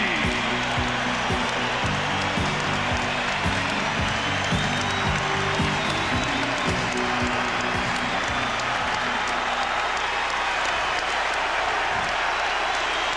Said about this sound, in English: the chant from this capacity crowd for Muhammad Ali